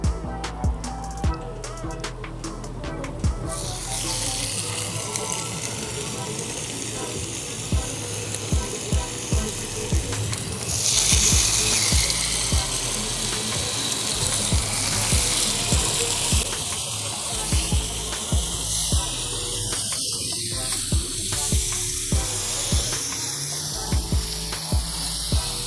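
Thin pork chops sear on a hot Blackstone griddle, giving a steady broadband sizzle that runs throughout, swelling louder midway, with scattered clicks and scrapes from handling.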